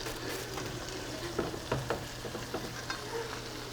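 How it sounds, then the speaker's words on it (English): A cabbage omelet fries in a pan, giving a continuous close sizzle with a few soft stirring or spatula taps, no voices. "I won't leave the other side to fry as much as this side"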